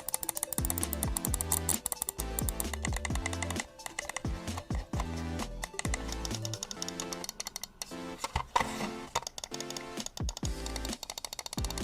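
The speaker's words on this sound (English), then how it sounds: "I wanted to show y'all how the clicking actually sounds like on this mouse as well." Uhuru WM-09 gaming mouse buttons clicked rapidly, a dense run of crisp, close tactile clicks of moderate loudness, with no talking.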